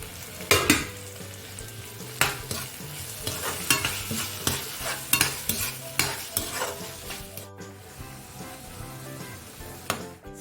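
Ripe tomato frying in a pan for duck gravy, a sizzle broken by repeated sharp scrapes and clinks of a spoon stirring against the pan, close and rhythmic, no voices.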